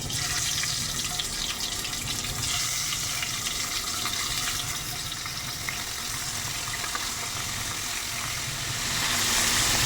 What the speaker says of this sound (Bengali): তো এবার আমি এগুলো ভেজে নিচ্ছি